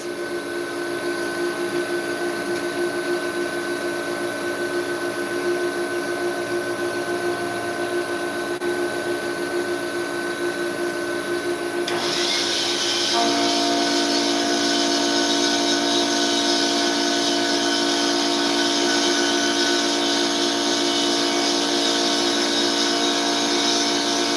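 Four-flute carbide end mill cutting metal at 3,000 RPM with a half-inch depth of cut: a steady, loud machining whine with a constant drone that steps up to a brighter, harsher pitch partway through, continuous and without talk.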